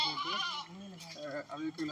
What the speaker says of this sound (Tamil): இங்கே வந்து ஒரு ஆடு நிற்கிது